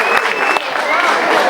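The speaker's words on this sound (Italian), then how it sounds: "un applauso fortissimo per questi partecipanti" Applause from an audience at a 1995 music festival in Liège, filling the short stretch with dense, steady clapping; a voice and faint tones come through beneath the clapping.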